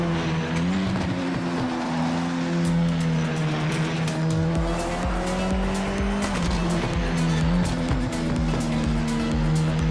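Race car engine roars continuously through a lap in a VR racing game, rising and falling in pitch with gear changes while tires squeal and skid, loud and steady for the whole stretch.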